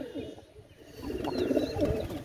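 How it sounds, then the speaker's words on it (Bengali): Oman Teddy and Kashuri pigeons coo softly at close range in a loft, a low murmuring burble that swells and continues steadily through the second half with faint background noise. "দেখেন ভিউয়ার্স, অসাধারণ কবুতর"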